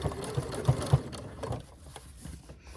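A sewing machine stitches a strap on a clear vinyl phone pouch lanyard, its needle running in a quick, steady mechanical patter that eases off toward the end, close up with no talking.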